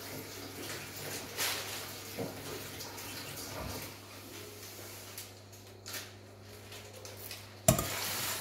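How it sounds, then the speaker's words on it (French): A whisk stirs a cheese and cream sauce in a pot for tacos, giving a soft, continuous swishing and scraping at low level with a steady hum beneath and one sharp knock near the end. "Et on va pouvoir touiller."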